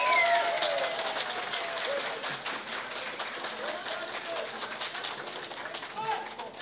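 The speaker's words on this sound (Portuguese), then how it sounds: "Vamos agora, então, aplaudir a trovadora de Passo Fundo, Maria Edi Malaquias." An audience at a trova and pajada gathering applauds a female trovadora from Passo Fundo. The applause is loud, sustained and crowd-wide, and fades slightly while voices are heard underneath.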